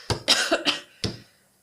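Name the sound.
cough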